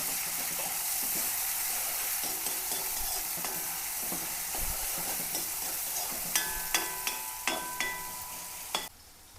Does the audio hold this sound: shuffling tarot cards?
no